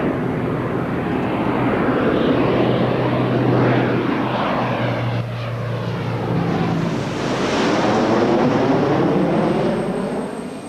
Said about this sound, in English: Graceful touchdown from a graceful aeroplane.